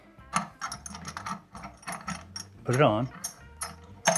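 Repeated ratcheting clicks and metallic scraping as a racking arm is fitted and tightened on an Anvil Crucible conical fermenter, close and fairly loud, with a brief voice speaking partway through.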